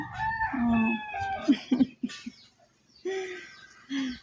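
Chickens cluck nearby in short, uneven bursts, and a rooster crows in drawn-out calls between them. The sounds are close and fairly clear, with quiet gaps in between.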